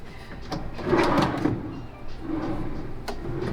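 A drawer in a hotel room slides open and shut, giving a loud wooden scrape and rumble near the start, then a softer second slide followed by a small knock, all close by.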